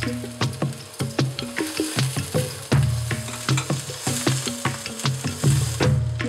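Garlic and caldo verde greens sauté in a pan, a close, loud sizzle broken by rhythmic scraping knocks as a utensil stirs them, repeated steadily throughout with no voices.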